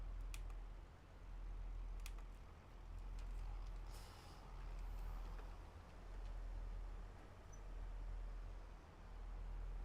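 Steady low diesel-like rumble of a truck engine left idling in Farming Simulator, continuous and fairly quiet with slight periodic swells, plus a few faint clicks.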